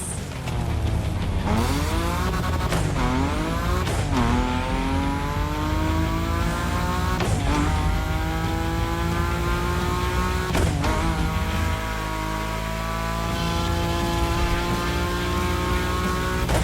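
A car drifts in The Crew Motorfest with a loud, continuous engine that climbs in pitch and drops again at each gear change, accompanied by a faint tire squeal throughout.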